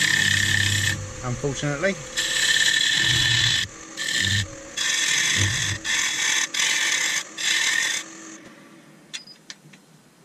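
Cutting an ebony bowl on a wood lathe, with loud close bursts of tool-on-wood scraping that start and stop in several stretches, a brief spoken word early on, then quieting at the end.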